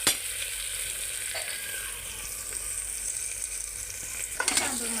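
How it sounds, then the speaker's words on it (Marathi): Tomatoes roasting in a hot pan give a continuous hiss of frying with a few scraping stirs near the end, moderately loud and without talk. "दोन मिनिटात भाजले जाते टमाटर."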